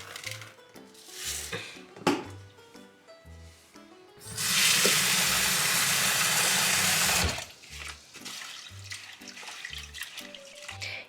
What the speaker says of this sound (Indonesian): Jadi ini aku nyuci beras dulu manual kayak di Indo.